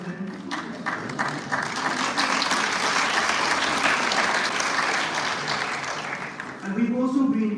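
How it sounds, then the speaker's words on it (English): An audience at an inaugural university lecture claps in sustained, dense applause that swells and holds for several seconds before fading as a voice resumes speaking. "So yes, we clap for them."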